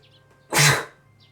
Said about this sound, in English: Have to sneeze.